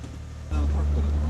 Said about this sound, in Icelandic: Það var traktorinn.